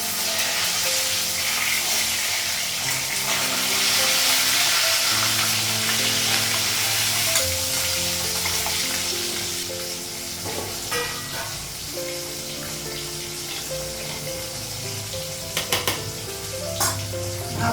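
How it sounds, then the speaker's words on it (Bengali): Fish frying in a pan of plenty of oil sizzles loudly and steadily up close, the hiss easing slightly midway, with a few sharp clinks of a utensil near the end. "মাছটা লাগিয়ে দিই আর এক সাইডে ভাজা হয়ে গেছে, মাছটা লাগিয়ে দিই"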